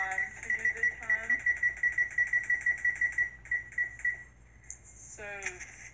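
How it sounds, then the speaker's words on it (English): Oven timer being set for bread rising, giving a rapid train of electronic beeps followed by a pause and a final short beep sequence, heard close and alongside a speaking voice. "So I'm gonna put the timer on for 30."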